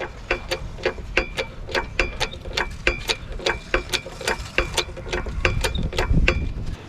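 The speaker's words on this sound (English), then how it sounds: "So I'm just gonna keep jacking it under here until I get the job done." A jack ratcheting under an RV to raise it, with a fast, regular series of sharp metallic clicks up close, and a low rumble building toward the end.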